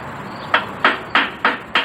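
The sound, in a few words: hammer smacking metal on makeshift anvil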